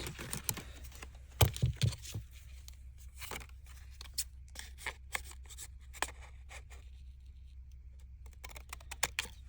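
Scissors cut a 12x12 sheet of paper for a folded mini journal, making sharp, irregular snips and crisp clicks, close and fairly quiet, with no talking.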